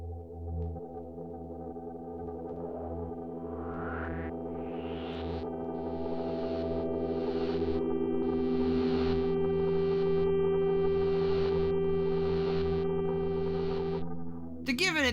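A synthesizer preset from the OMEN pack for Phase Plant plays a sustained droning chord while bursts of noise pulse in a steady rhythm, panning left and right, loud and heavily effected.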